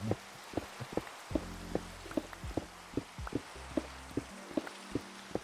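Steady Minecraft rainfall, a quiet continuous hiss dotted with regular crisp drop ticks, alongside low hums and occasional soft game tones, no voices.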